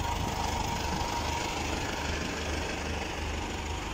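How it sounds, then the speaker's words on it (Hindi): Tractor engine running steadily on a farm in Saudi Arabia, a continuous low rumble with broadband noise that holds even and loud for the whole stretch, with no voices over it. "ये ट्रैक्टर है, आप लोग देख सकते हैं।"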